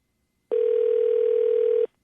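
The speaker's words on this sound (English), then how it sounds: "Okay, phone's ringing." A single steady telephone ringback tone on an outgoing call sounds for about a second and a half, clean and moderately loud against silence before and after.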